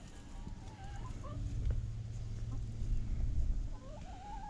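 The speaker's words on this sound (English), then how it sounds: "I'm gonna go in there and look at the chickens." Chickens cluck in a coop, close and continuous, with rising bird calls over a low background murmur.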